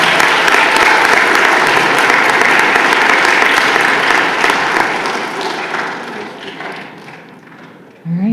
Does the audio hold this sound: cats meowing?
no